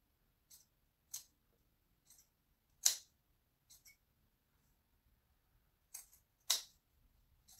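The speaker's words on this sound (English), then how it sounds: "So I'm kind of gradually cutting this one. This one's a little bit tricky" Scissors trim the lace of a wig in a series of small, sharp snips spaced unevenly, some louder than others, close up in a quiet room with no speech.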